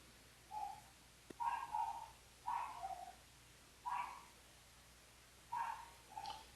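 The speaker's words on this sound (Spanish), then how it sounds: "es por el ruido de la perrita" A small female dog yaps in short bursts of two or three barks, with pauses between groups, fairly close over a quiet room hum during an online class.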